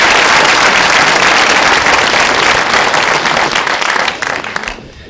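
A bigger round of audience applause at a storytelling session, loud and continuous from many clapping hands before thinning out and fading at the end.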